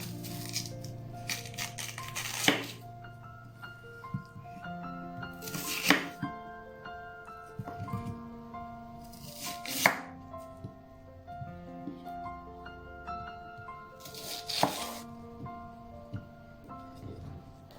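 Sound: chopping yam with a knife

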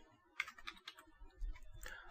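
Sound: typing a command on a computer keyboard

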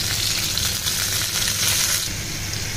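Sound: marinated chicken pieces frying in a pan

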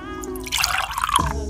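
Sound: splash of lemon juice being poured

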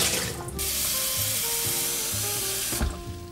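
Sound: tap water filling a cat's water bowl

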